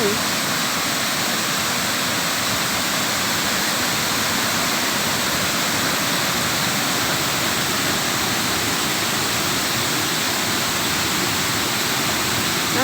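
A steady, roaring rush of falling water at Samrong Kiat waterfall fills the whole stretch, broad and unchanging, with no other sounds breaking through.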